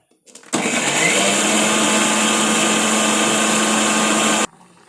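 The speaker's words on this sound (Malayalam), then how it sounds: "തേങ്ങയും മുളകും ജീരകവും വെളുത്തുള്ളിയും എല്ലാം കൂടെ കൂടി ഒന്ന് അരച്ചെടുക്കും" A kitchen mixer grinder runs loud and steady for about four seconds, grinding coconut, chili, cumin and garlic into a paste, starting abruptly and cutting off cleanly.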